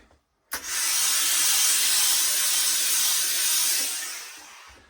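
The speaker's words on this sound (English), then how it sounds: "I sort of tend to put a bit of steam in there and just use my hand like that, just to ease the crease back in" A burst of steam hisses steadily onto the crease of a Lock & Co Madison trilby hat, starting abruptly after a brief silence, holding loud and even for about four seconds, then tapering off.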